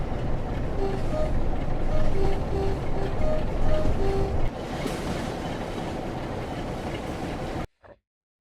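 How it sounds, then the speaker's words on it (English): Train track and engine sounds in Train Sim World 6 on an 80s West Coast military freight run with windows open: a steady loud rumble of wheels and engine with faint clicking and squealing, continuous, then cutting out abruptly near the end. "Some lovely track sounds and engine sounds"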